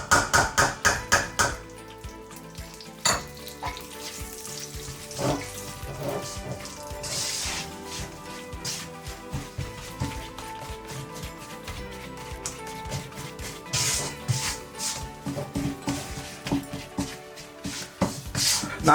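Besan flour sizzles and crackles in ghee while a spatula stirs and presses it. A dense, rain-like frying hiss runs throughout, broken by scraping strokes and occasional clacks against the pan.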